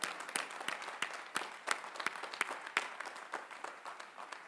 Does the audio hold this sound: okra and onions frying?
no